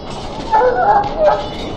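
A dog whimpers and yelps in the video game Dragon Age: Origins, with a couple of short high whines in the middle, heard up close.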